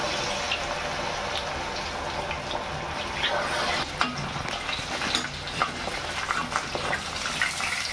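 Paneer chilli frying hard in very hot oil on a high flame, a dense steady sizzle with scraping stir sounds and occasional spatters throughout.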